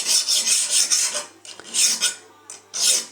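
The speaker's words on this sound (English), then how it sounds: "But the file does it just as well." A metal file rasping along the corners of a glass plate being prepared for wet plate collodion, a close, steady run of rough scraping strokes with a few short pauses and no talk.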